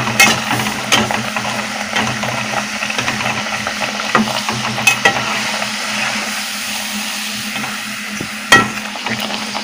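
Coconut puri deep-frying in hot oil gives a steady bubbling sizzle with scattered crackles and pops, close and fairly loud throughout, with no talking.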